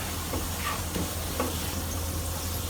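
Flour stirred into chicken frying in a pan for black pepper chicken: a constant sizzle with a few soft scraping strokes of the spoon, close and steady, no voices.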